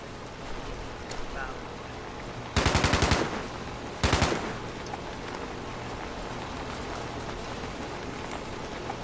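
Two short, rapid bursts of automatic video-game gunfire crack out close together, loud against a soft, hissy background.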